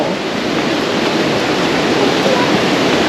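A rainy-season waterfall on the Mekong near Thakhek, Laos, roars as a steady, dense rush of white-noise water, loud and unbroken throughout with no voices.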